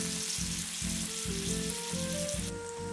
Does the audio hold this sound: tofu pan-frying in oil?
yes